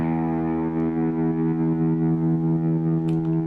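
An electric guitar with distortion, run through effects and set a little cleaner, rings out as a steady sustained chord with a buzzing, saturated tone and a faint click near the end.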